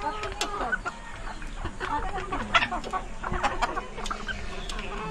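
Chickens of mixed sexes in a poultry farm shed cluck and squawk in a busy, continuous chorus, sharp calls overlapping at moderate distance.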